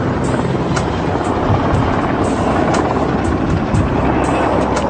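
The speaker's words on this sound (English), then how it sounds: "The helicopter is an unmarked Black Hawk-type chopper, often used by special forces." A loud, steady roar from an unmarked Black Hawk-type helicopter with a faint rhythmic rotor thump, continuous and close, with no voices.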